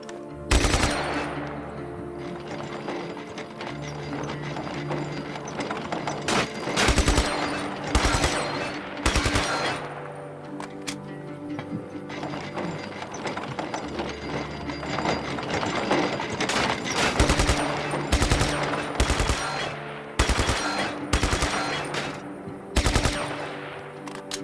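Rapid gunfire from a weapon in an aim-training video game, delivered in loud repeated bursts of sharp shots separated by short pauses, with no talk over it.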